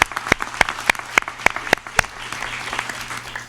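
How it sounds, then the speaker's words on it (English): Audience applause for conference panelists at a teachers' platform launch, a short burst of sparse, distinct claps from a small crowd, fairly close, fading toward the end. "maybe a round of applause for our panelists"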